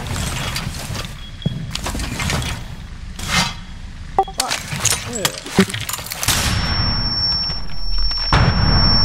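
Gunfire in the tactical shooter Rainbow Six Siege, with several sharp, loud shots and bursts spread through a busy in-game soundscape. A steady high tone enters near the end, and a voice talks intermittently.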